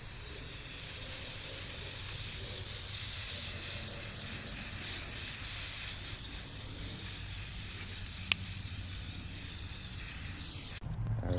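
Continuous hiss of an aerosol can spraying Rust-Oleum primer onto metal monkey bars hung from a backyard tree, steady and close, ending with a brief louder burst of handling noise.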